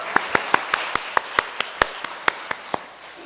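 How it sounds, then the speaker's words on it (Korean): A church congregation claps in steady unison, about fourteen sharp, evenly spaced claps in quick rhythm over a soft room hum, fading slightly toward the end. "우리 하나님께 영광의 박수 올려드리겠습니다."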